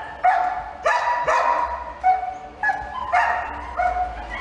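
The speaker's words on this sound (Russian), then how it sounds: "приютила у себя в квартире стаю собак" A pack of dogs bark and yip in short bursts nearby inside an apartment, their barks overlapping in an enclosed room with a slight echo.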